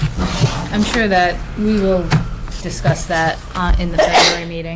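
In a library trustee meeting, a sneeze bursts out among several people talking, short and sharp against the steady conversation.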